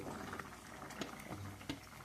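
A chicken and ash gourd curry bubbles in a pot, faint and low, with soft irregular blips and gurgles of a gentle boil and no voices.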